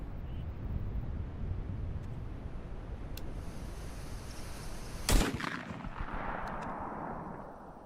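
A single sharp, loud double-barrel shotgun blast rings out while hunting outdoors, followed by a rolling echo, over steady wind noise.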